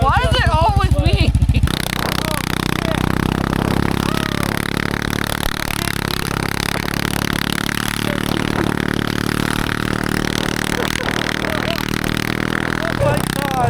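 An ATV engine runs hard at full throttle while towing a sled, a loud, steady droning roar that holds throughout, with voices calling out over it.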